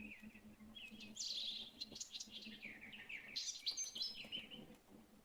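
Bird chirping in the video game Witcher 3: bright, rapid tweeting phrases in bursts, with a quiet low hum running underneath.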